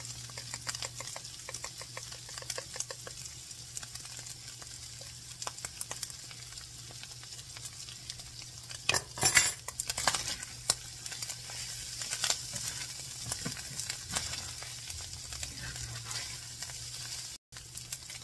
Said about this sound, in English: we're just going to stir this together.